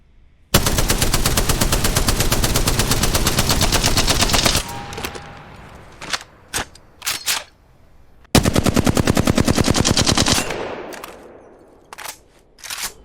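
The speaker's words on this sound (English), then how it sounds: "One of the singular, most defining aspects of Apex audio is how punchy every gun in the game sounds." Bursts of rapid automatic gunfire from Apex Legends, loud and punchy, with two long sustained volleys separated by shorter shots and echoing tails.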